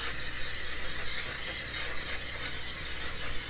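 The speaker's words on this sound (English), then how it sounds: "I'm going to spray my pan" Cooking spray hisses onto a pan in one continuous, even spray lasting a few seconds, close and moderately quiet.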